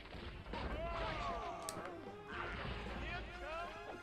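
Laser guns fired by henchmen in The Incredibles game, a loud burst of zapping shots and impacts with swooping electronic whines amid busy combat noise.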